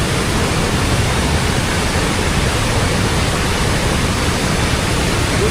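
Devi's Falls in Pokhara, Nepal, a large waterfall pouring at great speed, roaring as a steady, dense, loud wash of rushing water with no talking over it.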